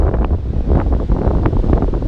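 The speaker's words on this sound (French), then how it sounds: "Avec les vagues qui viennent s'exploser sur les rochers là" Ocean waves break against the rocks at Canal Rock in Western Australia, a continuous heavy roar of surf mixed with strong wind buffeting the microphone, loud and close with no talking.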